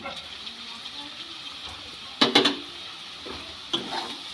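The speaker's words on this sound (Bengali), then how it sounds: "সেই সুজি থেকে হাফ সুজি এই সবজির সঙ্গে মিশিয়ে দিচ্ছি" Semolina being stirred into fried vegetables in a pan, with a few brief clinks and scrapes of utensil on the pan near the middle and end, over faint background noise.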